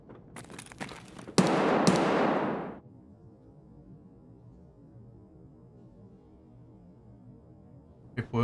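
Gunfire in the video game Escape from Tarkov: a sharp burst of shots followed by a loud, dense stretch of rattling fire that cuts off, then a quiet low hum before another shot at the end.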